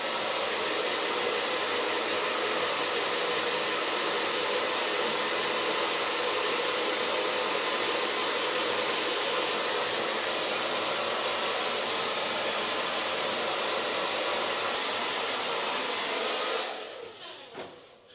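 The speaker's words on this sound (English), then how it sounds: "so now I can dry her hair a little bit" A hair dryer blowing on hair after a haircut, a loud steady roaring whoosh held close for many seconds before it cuts off abruptly near the end.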